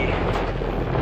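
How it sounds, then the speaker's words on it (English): Strong wind on a dusty, dry plain near Kilimanjaro buffeting the microphone, a loud, rough low-frequency roar with a brief surge at the end, no voices. "It's very windy today."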